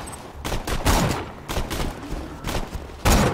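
Bursts of enemy gunfire in the Borderlands 2 shooter game, rapid repeated shots in several clusters with a heavy boom near the end, loud and close over a steady background hum.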